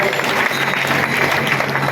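Applause welcoming a retired soldier at a village gathering, a dense continuous burst of clapping from a crowd, loud and close throughout.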